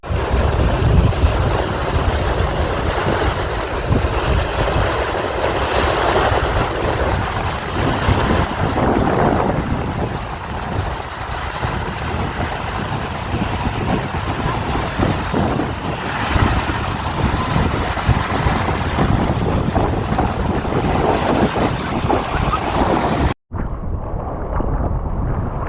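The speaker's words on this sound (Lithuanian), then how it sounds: "Nu, vėjas įspūdingas. Audringa." Strong stormy wind blows along the sea coast between Klaipėda and Palanga on a kayak trip, a loud, continuous roar buffeting the microphone with surf beneath, cutting off abruptly near the end.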